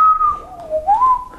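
A person whistles a short wavering tune close by, one clear melodic line that dips and rises for just over a second, with no talking.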